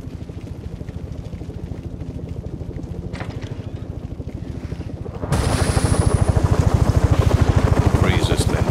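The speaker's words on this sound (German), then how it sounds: "Einer von Pinguins Männern wird wissen, wo dieser Hubschrauber hinfliegt" A helicopter in a Batman Arkham Origins audio drama beats with rapid, steady rotor thumps, growing suddenly louder and closer partway through as wind-like rushing noise swells around it.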